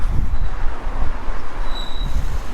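A train moves through Nottingham station with a loud, close rumble of wheels and carriages, a brief high squeal of wheels on rail partway through, and general station din around it.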